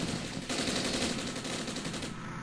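Rapid machine-gun fire in the tactical war game Armored Brigade, set in southeast Finland, a dense continuous rattle of bursts, loud and unbroken for a couple of seconds.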